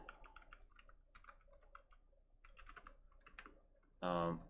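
Computer keyboard typing in steady quick bursts of clicks, close and moderately loud, while editing a Jekyll site's index file, ending with a brief louder burst of another sound.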